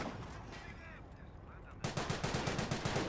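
Gunfire in the World War II strategy game Company of Heroes, with a sniper firing amid the battle: a dense run of sharp reports strikes hard after a quieter stretch of distant battle noise, repeating quickly and loud.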